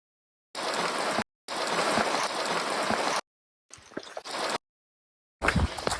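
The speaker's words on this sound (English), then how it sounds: "Such a pretty sound, rain on the roof." Steady rain patters on a hard surface, heard in several bursts broken by brief silences.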